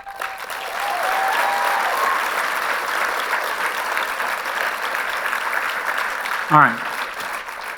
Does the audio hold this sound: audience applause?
yes